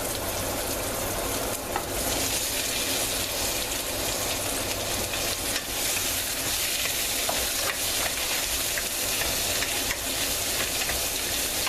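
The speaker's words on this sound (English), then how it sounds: "once they start to become translucent, then we go ahead and add our potatoes." Potatoes and onions sizzle and fry steadily in a pot for a stove-top stinging nettle soup, a constant dense crackle with occasional stirring, close and alone without voices.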